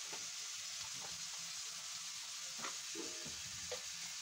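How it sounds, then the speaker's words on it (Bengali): Food fries in a pan, making a steady close sizzle throughout with faint scraping and stirring clicks on top, and no voices. "রান্না হচ্ছে।"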